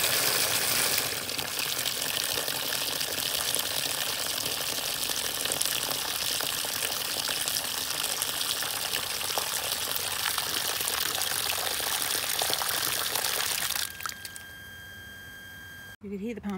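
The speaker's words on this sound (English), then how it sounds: "I'm going to fill it with water and then put the lid on" Rainwater from a pump gushing steadily into a bucket, a continuous loud rushing pour that stops near the end, leaving a faint pump hum.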